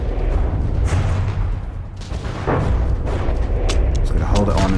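Weapons firing in From the Depths: scattered booms and heavy shots thud through a dense, rumbling battle, with someone speaking over the fire at points.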